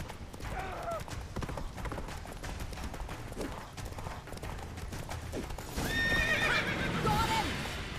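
A horse in The Witcher 3 neighs and whinnies as its hooves clip-clop along, with game machinery and combat sounds mixed in. A louder whinny rises near the end over the busy game soundscape.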